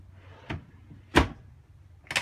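A spice drawer in the kitchen of a small Newmar Bay Star Class A motorhome is worked: three short, sharp knocks spaced about a second apart, close and fairly loud, with quiet between them.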